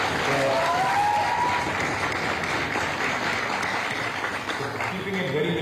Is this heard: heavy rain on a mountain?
no